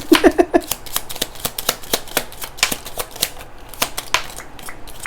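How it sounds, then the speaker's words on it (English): Stiff, hard-to-shuffle tarot cards are shuffled close up, making a rapid run of crisp flicks and snaps in an uneven rhythm. "bear with me because these are really hard to shuffle"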